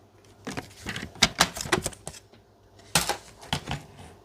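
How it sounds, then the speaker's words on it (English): A paper trimmer blade cuts through paper being sized for a handmade envelope, giving a few sharp, close slicing and clacking strokes in two short bursts, with quiet gaps between. "just line up one of our ends that we want to put in and just cut it off with our trimmer"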